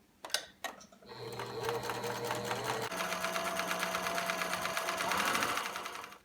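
A sewing machine runs steadily around the edge of a fabric memo book cover, its motor whirring in a fast, even stitching rhythm after a few short starts, close and loud with no talk.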